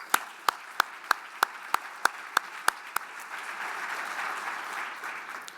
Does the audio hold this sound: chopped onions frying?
no